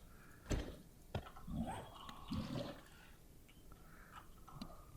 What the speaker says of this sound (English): now that we're by the water again, let's fill up the jars that we've got.